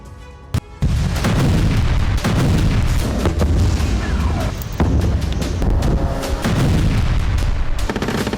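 Heavy Israeli bombardment in eastern Gaza: a sharp blast followed by a continuous loud roar of booming explosions and rumbling impacts, dense and close, with no voices.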